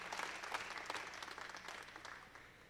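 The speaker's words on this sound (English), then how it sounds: "Let's give it a round of applause to our volunteers." Brief, fairly faint applause from a small audience at a national alpaca show, thanking volunteers; scattered claps through under three seconds.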